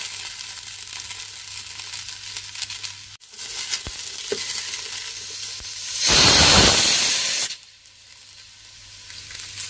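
Okra frying in a pan for a lentil-based okra curry, a steady low sizzle that swells into a loud burst of hissing and crackling partway through, then settles back to a quieter fry.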